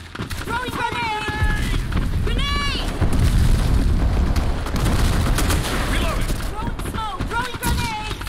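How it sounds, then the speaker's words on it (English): A grenade blast and bursts of gunfire from the online shooter Black Squad during a competitive match, loud and dense throughout, with booming impacts and rapid shots layered over game effects and team voices. "Throwing grenade."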